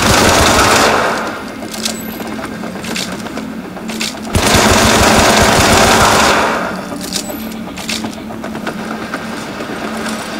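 Loud machine gun fire from the video game Syndicate rattles in sustained bursts, with a long stream at the start, a quieter stretch, then another hard burst that tapers off.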